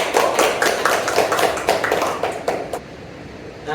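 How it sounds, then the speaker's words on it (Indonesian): Audience applause at a lecture on commodity fetishism, a dense burst of many hands clapping that fades after about three seconds into quieter room sound. "Beri aplaus dulu."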